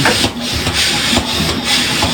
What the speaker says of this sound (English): right now it's sucking water in from vacuum, just like it would be milking a cow, except it's just water